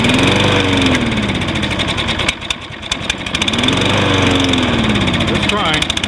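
Toro Recycler lawn mower being cold started, its small engine running rough and loud with a surging, uneven note that briefly dips mid-clip before picking back up.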